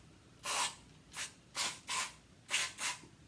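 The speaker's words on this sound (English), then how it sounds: "I'm just going to go ahead and spray a little bit, not much, a little bit on this side" Five short hissing bursts of aerosol contact cleaner sprayed onto a guitar pickup selector switch in quick succession, close and fairly loud, each lasting a fraction of a second with brief pauses between.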